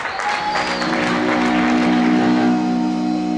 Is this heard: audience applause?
yes